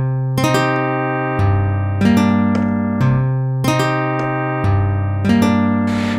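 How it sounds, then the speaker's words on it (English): Acoustic guitar patch on a Universal Sound Module, with plucked notes and strummed chords in a steady rhythm, each attack ringing out and decaying, close and clear with no voices. "we'll go to some acoustic guitar."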